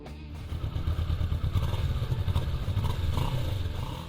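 A Kawasaki Vulcan S cruiser with a parallel-twin engine chugs and revs in a short burst of uneven, throbbing exhaust pulses, fairly close and moderately loud, with no voices.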